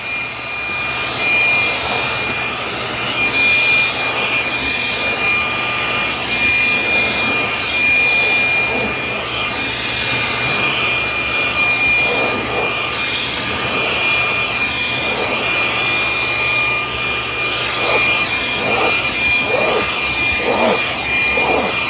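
A Fanttik Slim V8 Apex cordless car vacuum runs on its high setting, a loud steady whine with a constant hum that holds through the whole stretch, with brief shifts in airflow toward the end.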